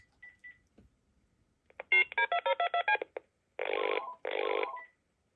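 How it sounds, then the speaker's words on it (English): A telephone line emits an ETSI CPE alert tone, a short dual-frequency chime, followed by a quick string of DTMF caller ID digit tones and then two longer tone bursts, clear and close with no talk. "let's hear what it sounds like with the CPE tone before the DTMF"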